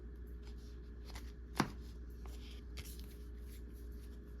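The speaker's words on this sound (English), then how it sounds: "so we're going to shuffle" A deck of playing cards is shuffled quietly at a tabletop card game, soft riffling bursts with one sharper snap partway through, faint over a low steady room hum.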